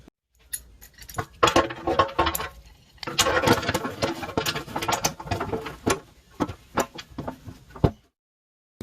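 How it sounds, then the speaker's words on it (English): Vise grips clamp a front frame rail to a subframe connector on a 1969 Mustang fastback, giving close, irregular metallic clicks, clanks and rattles in bursts, with a short pause near the end and no talking. "So I'm going to grab some vice grips."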